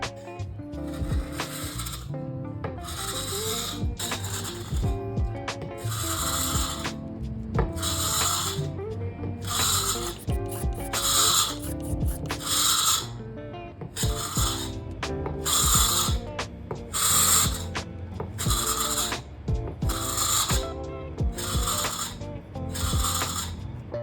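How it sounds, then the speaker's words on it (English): Steady scraping on a mid-century wooden coffee table during outdoor restoration in the sun, rhythmic rasping strokes repeating in bursts, close and fairly loud with no talking. "it is sweaty work in the sun scraping this thing back"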